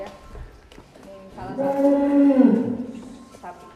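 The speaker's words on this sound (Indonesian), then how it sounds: "Coba lihat keluarkan sapi" A cow lets out one long, loud, deep moo at close range on a farm, swelling and then fading, with people talking quietly around it before and after.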